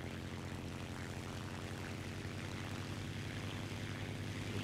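A propeller warplane in War Thunder gives a steady, droning engine roar that fills the clip, a continuous buzzing hum with a strong low tone. It holds level throughout and there is no talk.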